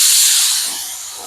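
A loud, close spray gun spraying a coat of car paint hisses steadily, then tapers off slightly in a single continuous burst.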